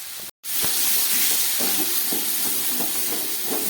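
Potatoes frying in a pan with onion and garlic paste, a steady loud sizzle and hiss after a brief silence at the start, continuing evenly throughout.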